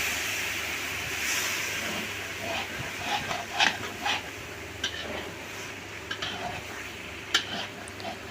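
Masala chicken in a hot pan hisses steadily as a little water is poured in, a continuous sizzle with a few utensil clinks and scrapes scattered over it.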